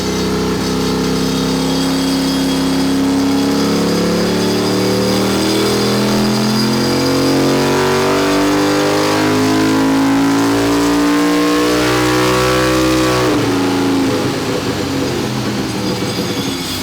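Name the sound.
turbocharged 670cc Harbor Freight drag rail engine running on dyno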